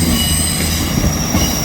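An East Midlands Railway train passes through Manchester Piccadilly, a steady loud rumble of wheels on rails with a sustained high metallic squeal riding on top, no voices.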